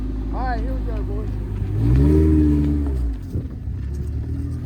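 A race car pulls away on its first run at Federated Auto Parts Raceway, the engine note rising loud and close for about a second before easing off, with voices talking over the start.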